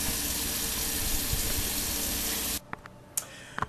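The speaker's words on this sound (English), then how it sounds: "Okay, so I've added just enough water." Water runs steadily from a tap into a bowl of flour while pizza dough is mixed in a home kitchen, a loud continuous hiss that cuts off abruptly, followed by a few light clinks.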